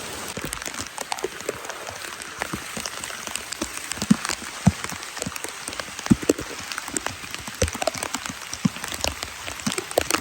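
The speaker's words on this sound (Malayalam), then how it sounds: "കണ്ടോ നല്ല മഴ ആണ്" Heavy rain pours over a paddy field in a dense, steady patter, with many sharp drops striking close by across the whole stretch.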